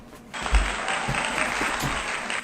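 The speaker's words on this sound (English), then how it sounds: "Oh, we got a round of applause." A round of applause breaks out suddenly from a small audience during a live podcast recording, steady clapping sustained for a couple of seconds at moderate level.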